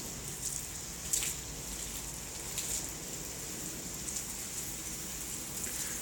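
Water sprays steadily from a garden hose, partly covered by a thumb, pattering onto plants in a continuous hiss with a few louder spurts, nearby and with no talking.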